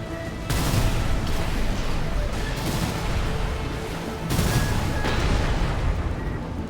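Missile volleys launching in Armored Core 6, loud dense rumbling bursts that swell at about half a second and again near four seconds, with a steady barrage of blasts in between and no talk.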